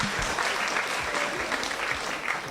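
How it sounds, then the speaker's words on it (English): An audience at a children's centenary celebration claps continuously for a few seconds, a dense, even patter of many hands. "Let's clap for them."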